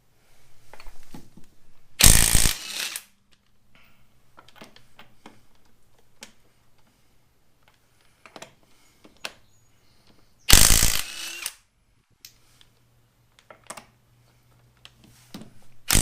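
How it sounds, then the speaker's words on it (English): Lug nuts come off a Jeep Wrangler wheel under a power tool. There are two short, loud bursts several seconds apart, with faint clicks and handling noises in the quiet stretches between them. "So let's go ahead and get these lug nuts off."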